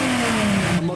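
Modified Subaru cars rev their engines together at a nighttime car meet, a loud, sustained engine drone with a droning pitch that dips briefly at the end.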